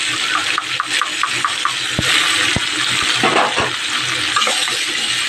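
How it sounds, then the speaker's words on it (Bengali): Spice paste poured into a hot wok of mustard oil with cumin seeds while cooking Bengali sim paturi, producing loud continuous sizzling and frying with a few soft knocks of utensils. "এবারে আমি দেখো এই যে মশলাটা আমি ঢেলে দেবো।"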